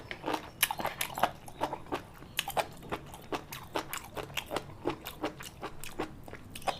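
Crunchy chewing of spicy Thai jellyfish salad with fresh shrimp and fermented fish sauce, close, rhythmic bites and crunches repeating steadily through the whole stretch with no talk.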